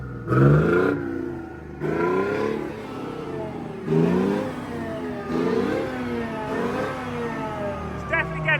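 An old, formerly abandoned APC armoured vehicle, still puffing blue smoke, has its engine revved repeatedly. Loud, close rising-and-falling engine roars run in several cycles, each climbing in pitch and then dropping back to a rough idle.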